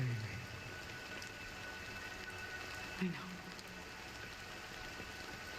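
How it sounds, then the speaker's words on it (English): Rain falls in the video game Honkai Star Rail as a soft, steady hiss, with a voice briefly speaking over it. "it's still raining."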